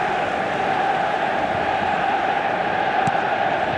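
Steady roar of a stadium crowd in an efootball soccer video game, a dense, constant wash of massed voices holding at an even level throughout, with one brief sharp accent near the end.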